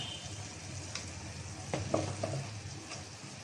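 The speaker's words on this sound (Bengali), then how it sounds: "মশলাটা আমি এখন কষিয়ে নেব" Turmeric and chili powder spices sauté in hot oil, a steady close sizzle broken by a few sharp scrapes and clicks of stirring.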